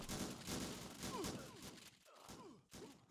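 Shotgun fire in a Fortnite battle royale match: several shots and bursts in quick succession, heard faintly amid the game's busy background noise.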